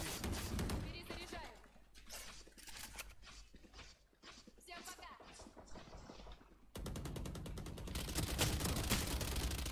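Rapid bursts of automatic gunfire from the tactical shooter game Valorant, loud and close, cutting in and out with a louder stretch near the end, while someone talks over the game audio.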